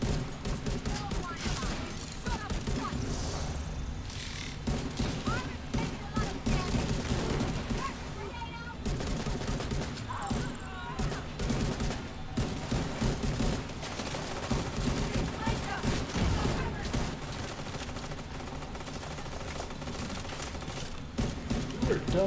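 Gunfire in The Division 2 video game rattles steadily through a long stretch as dense bursts of rapid shots in a loud, busy mix, with players talking over it at times.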